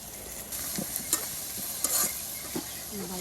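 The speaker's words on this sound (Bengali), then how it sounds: "ওই যে দেখুন পেঁয়াজগুলো কিন্তু একদম ভেজে নেওয়া হচ্ছে" Chopped onion and chili fry in oil as they are stirred, a quiet, even sizzle broken by occasional scraping strokes of a spatula, close by and without voices.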